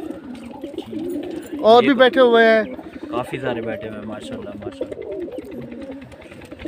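Zard Shirazi fighter pigeons with white tails, coo and call in a short loud burst under close conversation between men, with more birds perched nearby.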